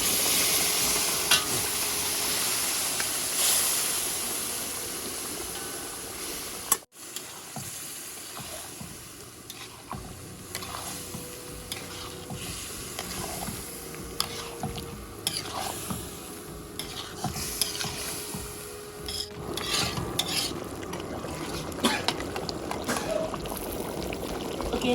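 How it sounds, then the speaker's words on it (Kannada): Cooked mutton for a spicy village-style mutton masala dry sizzles and fries in a pan, with steady frying hiss, repeated stirring scrapes and a sharp knock early on, no talking. "ಇವಾಗ ಬೇಯಿಸಿದ ಮಟನನ್ನು ಹಾಕೋಣ."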